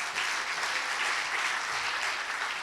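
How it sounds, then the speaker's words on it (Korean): Congregation at a Friday Holy Spirit church service applauds the disciple class graduates, an even, continuous burst of clapping from a large crowd throughout. "우리 제자반 수료생들에게도 큰 박수를 부탁드립니다."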